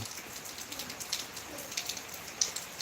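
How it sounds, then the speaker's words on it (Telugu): Steady rain from Cyclone Montha patters on a surface, with scattered louder drops standing out from a continuous wash of falling water. "వర్షం స్టార్ట్ అయిపోయింది"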